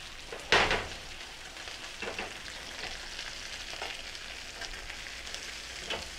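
Meat sears in olive oil in a pan with a steady, close sizzle, opening with a sharp, loud spatter burst and continuing as a crackling hiss with small pops.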